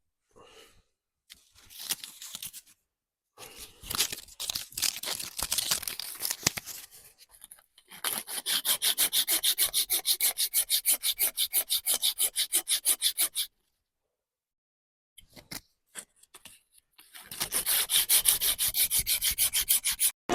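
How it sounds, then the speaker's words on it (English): A foraged-wood comb is carved with a knife and then sanded in scraping, rasping bursts, with long runs of steady rhythmic rubbing broken by silent pauses, close and fairly loud. "just going to go back with a carving knife, finish these off, and then sand them"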